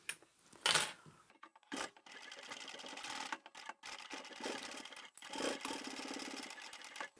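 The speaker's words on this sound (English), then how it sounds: "I'll sew this small section closed" A sewing machine stitches a small section of old men's tie fabric closed, running in short, quiet, rapid bursts with brief pauses between them, close by and with no talk.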